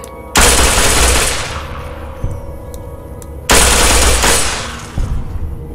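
In Fallout New Vegas, a 9mm semi-automatic gun fires two loud, sharp bursts a few seconds apart, each decaying into a ringing tail, with fainter clicks between them.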